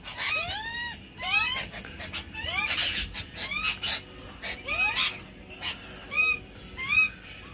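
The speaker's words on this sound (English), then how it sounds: "Magpies versus Happy Jacks versus lorikeets." Magpies, Happy Jacks and lorikeets squabble in a turf war, a rapid series of loud, harsh, repeated upslurred squawks and chattering calls in overlapping bursts close by.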